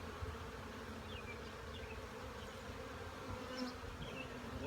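Honeybees drone steadily around an open hive during a beekeeper's inspection, a dense, continuous close buzz with a few brief higher whines of individual bees passing near, and no talking.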